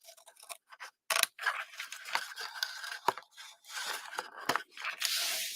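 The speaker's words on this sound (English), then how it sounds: "I like to cut that bump out" Scissors snip through paper or thin craft material to cut out a bump while shaping a flowering tulip piece, giving a run of close, crisp cuts and rustling with brief pauses.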